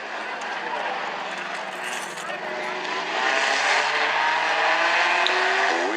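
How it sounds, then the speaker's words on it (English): Stinger 8 race cars fire off at the start of a heat race at South Sound Speedway, a loud, sustained engine roar that swells and grows louder partway through. "We are underway with tonight's racing action as Cut Rate Auto Parts Stinger 8's get us fired off."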